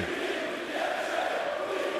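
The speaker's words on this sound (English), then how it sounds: "The crowd interacting with the players" A basketball arena crowd at a Rytas Vilnius versus PAOK game roars in a dense, unbroken wall of cheering and chanting that stays loud and steady throughout.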